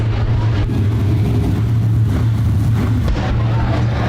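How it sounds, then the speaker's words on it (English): USRA B-Modified race cars roar around the dirt oval at Rapid Speedway, a steady loud engine drone with a held low tone that swells and eases as the pack circles. "Heat race 1 of 3, J&L RV USRA B-Modifieds."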